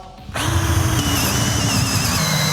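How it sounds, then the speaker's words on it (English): A cordless drill starts up and bores a hole in steel, spinning up abruptly after a brief quiet moment and then holding a loud, steady high-pitched whine with grinding underneath, close to the listener and with no talk. "This is the challenge of cordless drilling of holes."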